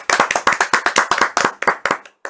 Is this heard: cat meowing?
no